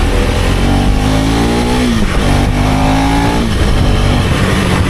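A Yamaha RX100 two-stroke motorcycle revving loud and close, its engine pitch climbing and dropping twice in a row.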